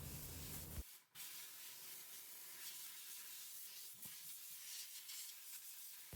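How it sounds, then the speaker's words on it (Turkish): A steam cleaner blasts stove burner grates with a loud, steady hiss that starts abruptly after a brief low rumble and holds for several seconds, close and alone. "Ve tellerini buhar makinesiyle yumuşatalım ilk olarak."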